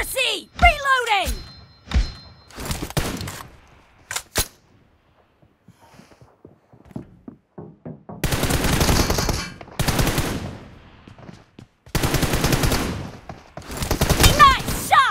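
Video game gunfire, with rapid automatic bursts and single sharp shots in loud clusters separated by quieter gaps, with players talking and shouting over the action.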